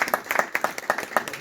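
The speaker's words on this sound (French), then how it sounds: "Est-ce que vous pouvez applaudir encore?" A seminar audience applauds in a burst of dense, moderately loud clapping from many hands, with no voices standing out.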